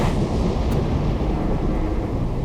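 Storm at sea with deep, continuous rumbling thunder and roaring wind, a loud, steady low-frequency wash with no breaks and no voices.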